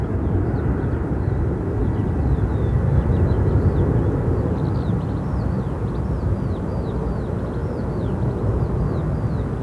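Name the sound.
British Airways Boeing 777 landing at Gatwick Airport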